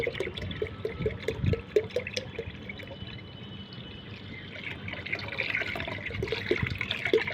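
Water pours and splashes into homemade fertilizer made from curd and black salt, a steady, close, liquid rush with intermittent sloshing as it is mixed.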